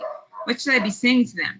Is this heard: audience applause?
no